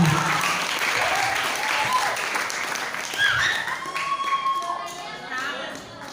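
Clapping from a seminar audience in a closing session, moderate applause mixed with chatter and voices, some taps and thumps, tapering toward the end.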